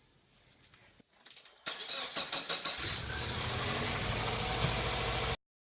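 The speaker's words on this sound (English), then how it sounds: "by using this wire brush and sitting it against the pulley at different angles while the car runs" Subaru EJ engine starting and then idling steadily, with a broadband scratchy hiss from a wire brush pressed against a spinning accessory pulley, preceded by a few clunks and metallic taps; loud and close, no talking.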